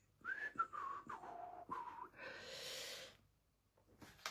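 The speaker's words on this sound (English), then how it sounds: "Whistle to yourselves." A person whistles a short, wavering tune up close in short melodic phrases, ending with a long breathy exhale and then quiet while card-making with paper and glue.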